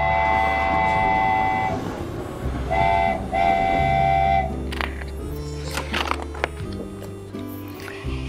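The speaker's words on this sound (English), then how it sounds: "Grandma took a train." A toy-like train sound effect plays during a storybook reading, with steady rolling rumble and rhythmic clacking. Tonal whistle or horn notes come in two short bursts, loud and close, with no talking over them.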